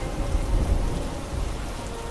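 Steady heavy rain pours down with deep rumbling thunder rolling underneath, a continuous close storm texture with no voices.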